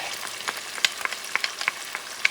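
Garlic toasting in a pan for a pork stew: a quiet, crackling sizzle broken by scattered sharp pops and spatula clicks, heard close with no talking.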